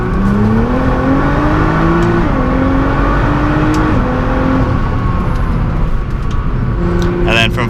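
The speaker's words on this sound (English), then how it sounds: "And then we'll do another acceleration on the highway." A Nissan GT-R with a Stage 2 tune accelerates on the highway, its engine note climbing hard through rising pitch sweeps broken by quick gear changes, loud and close, with a voice speaking over it.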